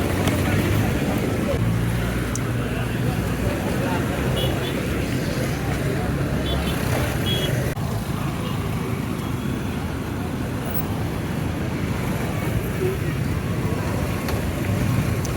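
Dense traffic jam on a Kampala city road near road construction in the evening, a steady wide rumble of idling and creeping engines with faint distant horns, continuous and even throughout.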